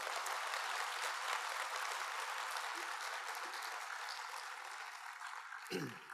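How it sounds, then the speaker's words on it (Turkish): Conference audience applauding a speaker, a steady wash of clapping that holds evenly throughout with no break, ending in a brief thump. "Alkışlarsanız biraz enerji gelir,"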